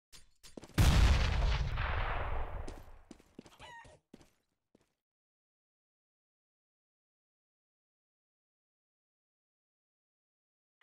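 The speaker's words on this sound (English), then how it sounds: "Grenade out." A grenade explodes in a competitive shooter, one loud booming blast near the start that rumbles and decays over a couple of seconds, followed by a few sharp clicks before silence.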